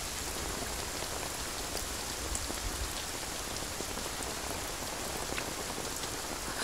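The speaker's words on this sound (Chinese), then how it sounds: "雨大" Heavy rain falls steadily and densely, a close, continuous hiss of drops on surfaces with no pauses and no voices.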